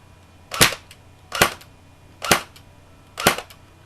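A TSD UMP airsoft electric gun fires four single shots, each a sharp, close snap spaced evenly about a second apart over a quiet background.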